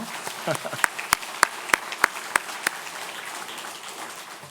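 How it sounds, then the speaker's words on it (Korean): A handful of sharp claps ring out in an even rhythm over a murmuring room at a church Sunday service, then fade into background noise. "한번 큰 박수 한번 해주시죠."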